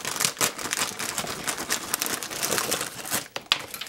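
A crinkly plastic bag of R.W. Garcia chickpea crackers being cut open and handled, giving a close, continuous crackling rustle with sharp snips and crinkles; a voice speaks briefly.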